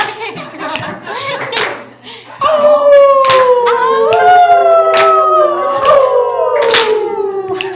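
A group of people imitate wolf howls with long gliding overlapping cries while others clap in a steady rhythm, loud and close.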